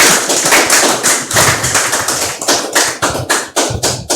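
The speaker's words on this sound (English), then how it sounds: "Shall we give Mommy a round of applause?" A small gathering at a Hot Seat Series event in Madina claps for a mother, dense rapid handclaps forming a loud, steady round of applause that stays close and full throughout, with no talking.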